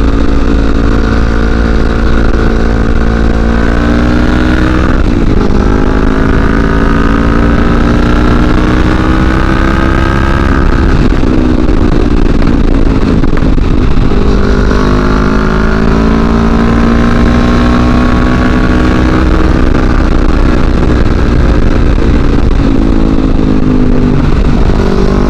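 A CFMoto NK400 motorcycle with a lost-power fault, recorded close and loud as its engine revs up repeatedly, the pitch climbing through gears in several rising sweeps, dropping back, then accelerating again.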